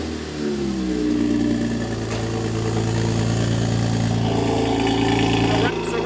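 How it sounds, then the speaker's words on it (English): A car engine with a valve rattle fault starts up and settles into a steady, loud idle, a rough mechanical rattle running under the drone for several seconds before it cuts off. "Right now we're going to turn on the car, we're going to show you guys the problem"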